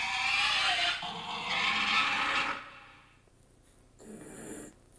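A loud, harsh squealing pig used as a sound effect for a movie monster, with rough screeching bursts in the first few seconds, then a quieter gap and a shorter squeal near the end.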